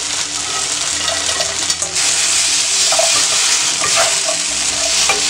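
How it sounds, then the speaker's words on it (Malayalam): Fried chicken for dragon chicken tossed in a pan over high flame, a loud continuous sizzle with stirring scrapes running throughout. "ഹൈ ഫ്ലെയിമിലിട്ടിട്ട് ഒന്ന് ഫ്രൈ ആക്കിയിട്ട് എടുക്കുവാണ്"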